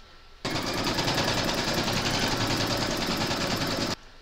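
An embroidery machine stitching a placement outline for batting on a hooped bookmark project, a fast, rapid-fire needle chatter that starts abruptly, holds steady for about three and a half seconds, then stops.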